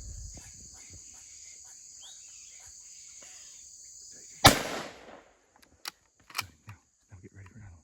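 A single sharp gunshot cracks out while hunting outdoors, loud and close, with a brief decaying echo. Steady insect chirping runs underneath, and scattered rustles and knocks follow.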